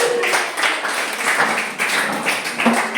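Children in a classroom clap their hands together, a busy, irregular patter of many small claps that runs continuously and fairly close, with no voices over it.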